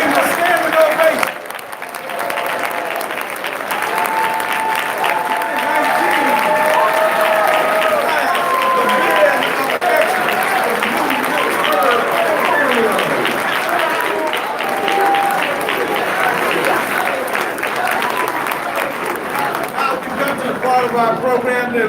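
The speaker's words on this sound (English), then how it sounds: "Give them a standing ovation." A standing ovation at an awards gala fills the room with long, thick applause, whoops and crowd voices mixed in, staying loud and even throughout.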